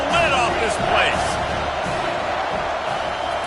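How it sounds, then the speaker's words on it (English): Stadium crowd roaring loudly and steadily in a football video game, a dense continuous wash of noise with a commentator's voice talking over it. "this crowd is tearing the lid off this place"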